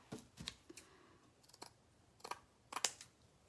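Scissors snipping through cheesecloth to trim a bow for a homemade ghost decoration, faint, sparse crisp cuts spread irregularly over a quiet room.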